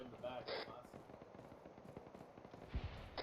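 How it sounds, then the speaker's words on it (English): Distant explosions and bursts of gunfire in the Arma 3 military shooter, a scattered crackle of pops and thumps with one heavier boom near the end, heard under team voice chat. "I hear a bunch of explosions from way ahead."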